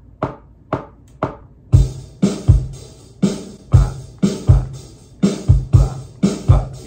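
A bass guitar groove locks to a bass drum, punchy low notes and thumps landing together in an even pattern with gaps left between the hits.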